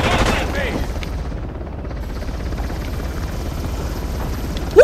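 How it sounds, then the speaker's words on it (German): Helicopter arriving in the video game Uncharted: The Lost Legacy, a loud, steady rotor thumping and engine roar that fills the whole scene, with gunfire-like bursts and game voices over it. "Da ist der Heli."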